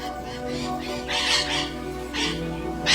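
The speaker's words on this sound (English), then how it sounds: "their loud squawks echoing through the forest" Macaws in the Amazon rainforest let out harsh, loud squawks in two or three bursts, ringing over a steady bed of forest ambience and music.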